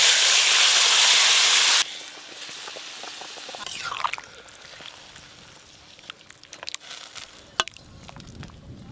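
Boiled vegetables tipped into fried spices in a pan for a fish curry, giving a loud burst of hissing sizzle that cuts off abruptly. Softer crackles, drips and scattered clicks follow.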